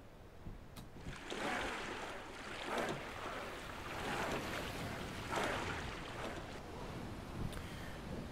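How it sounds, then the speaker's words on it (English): Sailing ship riding ocean waves in the Viking-era video game Expeditions: Viking, a steady wash of surf and wind with swelling surges of spray across the whole stretch, no talking. "During the day, the wind picks up and the waves turn larger."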